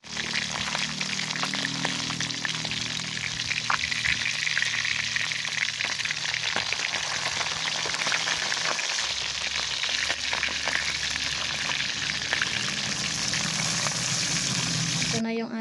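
Pork frying in a pan for a simple home breakfast, a steady dense sizzle and crackle holding at an even level from start to finish.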